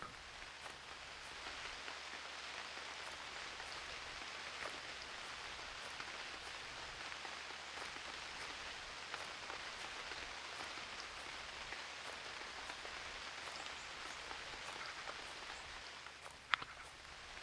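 Rain falls steadily in the video game UnReal World, a soft, even patter of drops hissing continuously at low level, with a brief sharper tap near the end.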